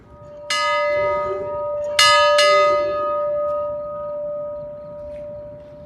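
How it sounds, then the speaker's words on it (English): A bell at the Steamtown railway museum in Scranton, Pennsylvania, struck three times, each clear metallic clang ringing out and slowly decaying over a quiet background. "So that was you ringing the bell?"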